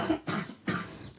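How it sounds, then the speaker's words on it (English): A man coughs two or three times in quick succession, close and fairly loud, with harsh bursts separated by short pauses. "He's coughing."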